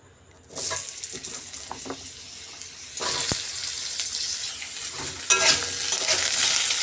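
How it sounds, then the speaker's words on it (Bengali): Potatoes dropped into hot oil left over from frying river morla fish, a loud sizzling that bursts in near the start and swells again partway through, with scraping and stirring noises over a steady frying hiss. "তো মাছটা আমি নামিয়ে নিয়েছি ওই তেলের মধ্যে আমি এবার আলুগুলো দিয়ে দিচ্ছি"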